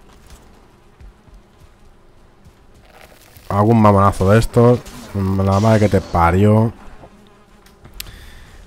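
Bees from beehives in the Valheim video game buzz faintly in the background while someone speaks Spanish loudly over them for several seconds.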